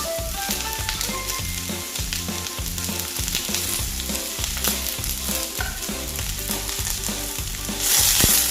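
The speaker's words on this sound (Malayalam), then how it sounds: "കടുക് പൊട്ടിയപ്പോൾ ഈ സവാളയും പിന്നെ പച്ചമുളക് അതിലേക്ക് ഇട്ടു" Sliced onion and green chilies crackle loudly in a pan with popped mustard seeds, a dense close sizzle punctuated by rhythmic stirring scrapes, with a brief surge of hiss near the end.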